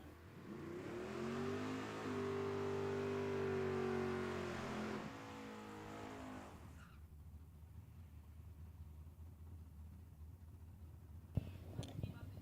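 A junior comp drag racing car launches down the strip at Tucson Dragway, its engine roaring loud and rising for about six seconds before fading into distant rumble, with one sharp knock near the end.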